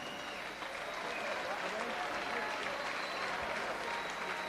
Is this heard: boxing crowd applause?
yes